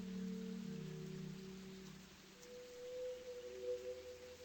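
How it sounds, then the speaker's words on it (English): Soft, steady rain ambience from Zone 1 of the video game OFF, a faint even hiss with low sustained tones beneath it. "Zone 1 is green with rain."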